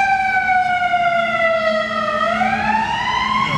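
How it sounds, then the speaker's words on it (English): An emergency vehicle siren passes nearby, a loud, sustained wail whose pitch slides steadily down and then bends as it goes by, steady throughout with no voices. "It is always inevitable that a siren goes by."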